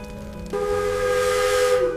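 A loud steam whistle blows abruptly and holds a steady, piercing tone with a hissy edge.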